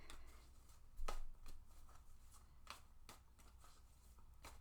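Cards are shuffled for a card reading, soft close riffling swishes and taps in a loose rhythm of quick bursts over a quiet room hum.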